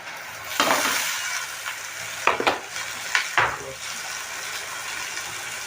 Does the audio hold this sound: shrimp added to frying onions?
yes